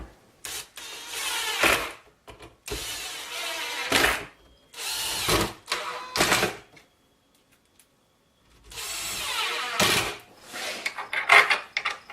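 Power drill driving screws to fix a bolted block onto a homemade table saw: several whirring bursts of a second or two each, separated by short pauses, close and loud, the motor pitch rising and falling.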